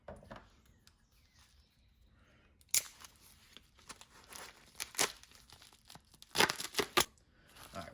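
Packaging for an Mcarbo spring kit for an FN 509 pistol is opened close up, with quiet scissor snips followed by bursts of crinkling and tearing plastic, alone and unspoken over.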